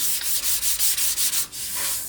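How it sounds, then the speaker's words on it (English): Rhythmic hand sanding of paint on a Moto Guzzi Mk1 motorcycle part, about nine quick back-and-forth scrapes of abrasive paper on a hard surface, close up, then one longer steady rub. "We're gonna just keep sanding a little bit"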